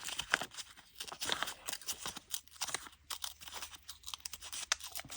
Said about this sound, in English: I'd like to try and rip this actually,